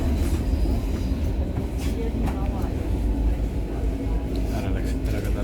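Crowded train in Berlin, a steady close rumble of carriages on the rails with muffled chatter from passengers mixed in throughout.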